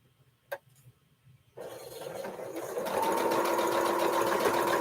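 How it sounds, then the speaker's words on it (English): A sewing machine stitches straight lines of quilting on a heart-shaped quilt block, starting after a single click and running as a steady, close whir that builds and then holds at an even pitch. "I'm just doing some straight line quilting"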